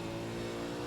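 A race car in the iRacing simulator holds a loud, steady engine drone with a layered buzzing tone through a short moment, no voices over it.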